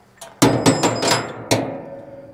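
Metal ratchet straps for outfitting a trailer, knocking together in a quick series of five or six loud, close metal-on-metal clanks with short ringing decays, ending with a final clank after a brief pause.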